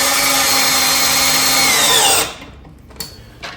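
A power drill drives screws into furniture during assembly, its motor whirring loud and steady for about two seconds before cutting off, followed by a few faint clicks and handling noises.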